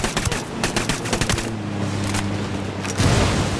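Automatic gunfire in Tom Clancy's Ghost Recon Wildlands, sharp rapid bursts of shots crackling close and loud, a short pause with a droning hum, then another heavy burst.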